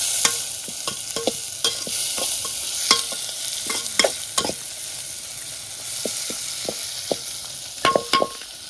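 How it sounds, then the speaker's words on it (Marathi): Onion fries in a pan while cooking outdoors at a jungle camp in Konkan at night, a constant sizzle under frequent sharp spatula taps and scrapes, close up with no talking. "हे जे आहे कांदा मस्त भाजला जातो."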